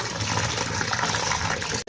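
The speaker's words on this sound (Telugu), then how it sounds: "నీళ్ళు వేసి ఉడకబెట్టేద్దాము" Drinking water pours steadily into a cooking pot of washed taro roots set for boiling, a continuous splashing gush up close, cutting off abruptly at the end.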